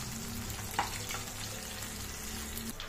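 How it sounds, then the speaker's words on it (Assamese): Fish fry in mustard oil in a frying pan, a faint, steady sizzle with a single light clink near the start and no talk. "মই গোটেইকেইটা মাছে ভাজি ল'লোঁ এয়া মোৰ মাছ ভাজি হৈ গ'ল"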